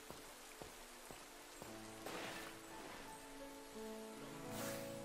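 Steady patter of rain falling in the video game Pokémon Scarlet, a soft continuous hiss broken by a few sharp drop ticks, with game music tones running underneath.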